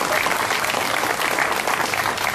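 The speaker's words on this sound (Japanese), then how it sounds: "どうぞ大きな拍手で。" An audience at a Fuchu jazz event claps warmly for a special guest, a kabuki actor, producing a full, continuous patter of many hands that holds at an even level throughout.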